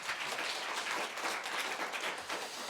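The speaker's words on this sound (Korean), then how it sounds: "우리 박수로 화답하겠습니다" Applause from a church congregation at a Sunday worship service, a dense, steady wash of many hands clapping together throughout, moderately loud and filling the room without a break.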